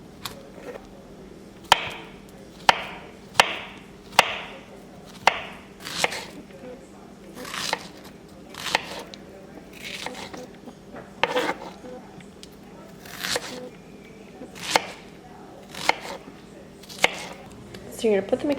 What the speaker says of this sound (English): We're gonna have a little fruit chopping intermission.